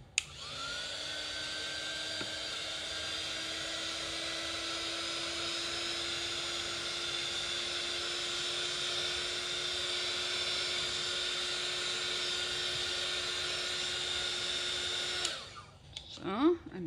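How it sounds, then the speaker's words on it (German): A hair dryer blows steadily at close range for about fifteen seconds, drying Distress Oxide ink on a galaxy-style background, then switches off with some handling noise. "Tue ich einmal trocken föhnen."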